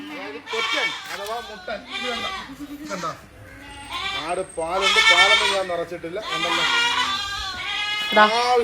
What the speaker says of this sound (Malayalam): ഇതാണ് രണ്ടും കിടായി കുട്ടിയാണേ